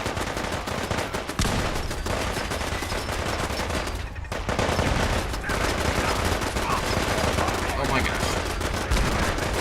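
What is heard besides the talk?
gunfire from the video game Fallout 4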